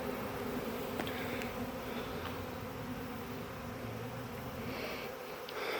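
A swarm of gentle honey bees hums in a dense, continuous buzz that surrounds the listener, with individual bees flying close now and then as the drone swells and thins slightly.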